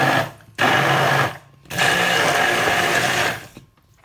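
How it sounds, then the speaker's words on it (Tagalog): An electric kitchen blender whirs loudly while blending pesto sauce with pine nuts, in two bursts of steady motor noise separated by a short pause, then cutting off. "Ito po natin ang ating pagbiblender."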